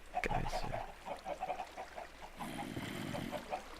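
Chickens in a Minecraft modpack world cluck and squawk in a quick run of short, repeated calls, fairly faint against a low ambient background, with a sharper burst near the start.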